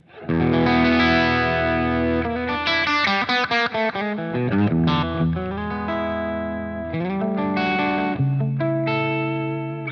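A Telecaster played through a valve amp with impulse responses, strummed chords and single notes ringing with a slightly gritty edge and some reverb.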